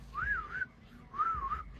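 A person whistling two short, wavering rising-and-falling notes, close and clear, with a brief pause between them.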